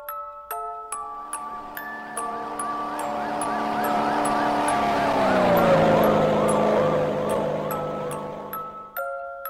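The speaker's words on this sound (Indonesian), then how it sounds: "tiba-tiba saja muncul mobil patroli petugas polisi yang mengebut di tengah malam" Police patrol car speeding at night in the horror game Teke Teke Moonlit Dread, its wailing siren rising and falling loudly as it approaches and passes, with a steady engine hum beneath.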